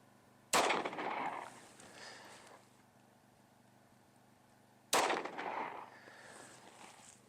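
Two sharp, loud gunshots from Underwood tumble-upon-impact ammunition, about four seconds apart, each followed by a ringing, echoing tail outdoors.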